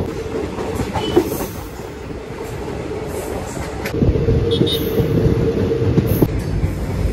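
A long-distance passenger train runs steadily on the rails near Tiruppur, a continuous loud rumble with clickety-clack wheel beats that swells heavier in the second half.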